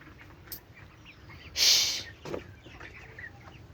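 Chickens on a poultry farm cluck softly in the background while one bird gives a short, sharp cough-like sneeze midway, loud and close against the quiet flock.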